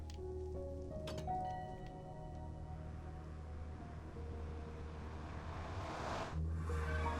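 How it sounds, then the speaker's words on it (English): Rain falls in the Minecraft video game as a faint, steady patter, quiet and continuous beneath soft background music tones. "Of course it's raining. It always seems to be raining in this world."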